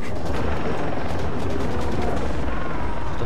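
Steady loud rotor roar of a helicopter in the video game Far Cry 3, dense and continuous throughout, with possible gunfire crackle mixed in and no talk.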